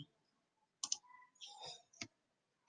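A single computer mouse right click while a new file is being created in a code editor, followed by a few more quiet clicks and soft desk handling sounds in a quiet room.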